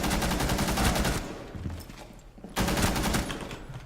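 Rapid, loud gunfire from an operator's weapon in Rainbow Six Siege, heard as dense bursts that open the clip, drop to quieter game sounds, then return at full strength.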